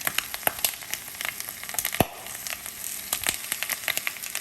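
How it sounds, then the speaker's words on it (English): Pork belly skin searing in a Staub cocotte, crackling and popping in rapid irregular bursts over a steady close sizzle, with one sharp louder pop and no talk. "you're gonna hear some loud popping noise here. We're just making the skin, searing it."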